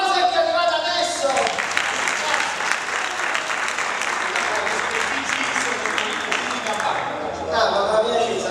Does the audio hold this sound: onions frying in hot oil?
no